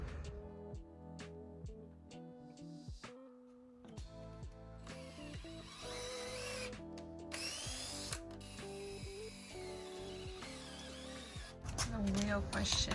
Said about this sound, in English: I'm currently in the process of pressing these bushings in